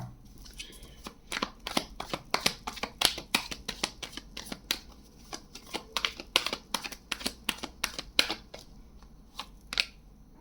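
Tarot cards being handled and shuffled close up, a quiet run of rapid crisp flicks and snaps in irregular bursts, with a few cards dropping.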